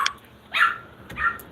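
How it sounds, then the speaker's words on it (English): A dog shut in a kitchen barks three times, sharp and fairly close, with short pauses between barks in a quiet room. "she barks at me after I put her in here"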